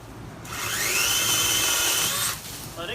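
Greenworks 20312 cordless chainsaw whines up and cuts through a tree limb for about two seconds, a steady high-pitched electric motor buzz close by, then spins down.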